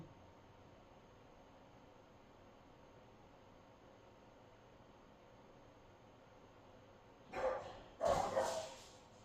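A dog barks twice in quick succession indoors at home, short loud bursts breaking out after a long stretch of quiet background hiss.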